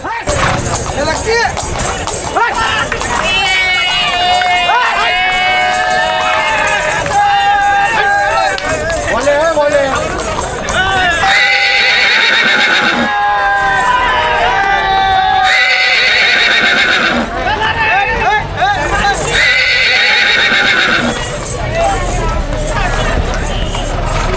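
Horses whinny repeatedly while performing a dance before a pilgrims' palanquin procession, over a dense, noisy crowd backdrop with clapping, hoof steps and general commotion throughout.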